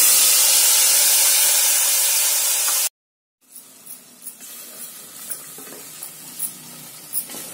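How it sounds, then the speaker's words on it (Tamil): Ground masala for goat head curry goes into hot oil after mustard seeds have spluttered, starting as a loud, bright sizzle that cuts off abruptly and then comes back as a quieter bubbling crackle with small irregular pops. "கடுகு நல்லா பொரிஞ்சதும் அரைச்சு வச்ச மசாலாவை போட்டுக்கலாங்க"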